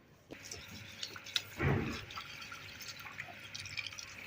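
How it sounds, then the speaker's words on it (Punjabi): Water poured onto plants at a mud house, faint trickling and dripping with one short louder splash midway, close by and otherwise quiet, with no talking. "ਹੁਣ ਪਾਣੀ ਲਗਾਉਂਦੀ ਹਾਂ"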